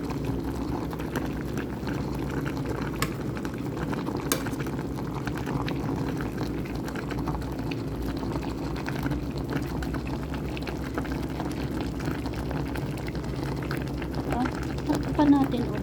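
Okra dish bubbling at a steady boil in a cooking pot, a continuous low simmering rumble with soft bursting bubbles throughout, fairly close and even in level, with a faint clink near the end.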